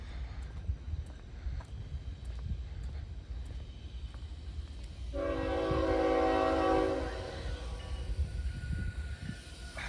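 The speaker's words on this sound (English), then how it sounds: "And our next train is finally here." A train passing in Elkhart at sunrise, a steady rumble of rail cars with a loud multi-tone horn blast sounding for a few seconds in the middle, heard from trackside at moderate distance.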